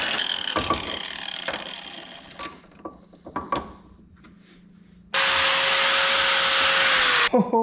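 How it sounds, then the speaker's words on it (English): A welder tack-welds a crack on a Wheel Horse 520 garden tractor, giving a steady, loud two-second buzzing hiss after scattered clanks and taps of metalwork. "So I'm going to hit that with the welder, just to tack that."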